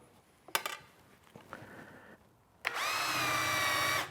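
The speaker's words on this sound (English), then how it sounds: "When I drill this hole," A power drill bores a hole into the arm rail of a wooden sack back Windsor chair; a few sharp taps and clicks come first, then the drill whines steadily and loudly at close range for about a second and a half.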